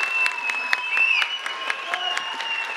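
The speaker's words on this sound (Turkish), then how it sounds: "Tekrar bir alkış isteyelim Gülistan için." Audience applause for a student presenter at a school speaking event in Sarayönü: steady, dense clapping from a crowd throughout, with a faint voice and a thin tone running over it.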